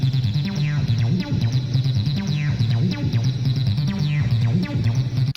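A squelchy 303 synth line bubbles through the second drop of a remix, a fast repeating bass pattern with sliding filter sweeps over a steady beat, loud and unbroken until an abrupt stop.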